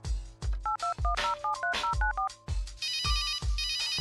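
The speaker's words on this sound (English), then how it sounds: "I'll call Willie and try to get him to enter the analysis laboratory." In the point-and-click adventure game Runaway: A Road Adventure, a telephone keypad beeps through a quick run of dialing tones, then a ringtone sounds in repeated bursts. It is clear and fairly quiet, with no talking.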